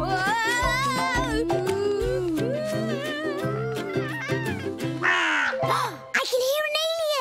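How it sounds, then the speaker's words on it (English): A cartoon alien flutter squawk rings out as a shrill, crow-like cawing call mixed into busy music and animated character voices, with a couple of sharper squawks near the end. "I can hear an alien! There! It's an alien flutter squawk!"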